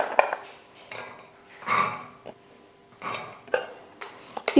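Handfuls of soaked chickpeas are dropped into a cooking pot for a Kerala-style kadala curry, landing in a few separate clattering bursts with brief pauses between them, close by.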